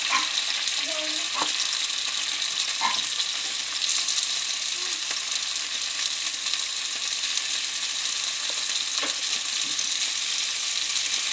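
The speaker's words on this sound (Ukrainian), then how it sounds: "І так ми жаримо м'ясо." Turkey fillet fries in a pan with a loud, dense, continuous hiss and crackle, dotted with a few small pops and faint background noises, with no talking.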